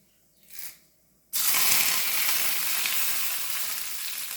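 Dried red chilies hit hot oil while tempering moru curry, a loud sudden sizzle that bursts in after a short quiet moment and keeps crackling steadily at close range.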